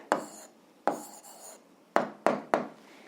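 Pen strokes on paper while writing out an algebra answer: five short scratchy bursts, two longer ones followed by three quick taps, close and fairly quiet with no voice.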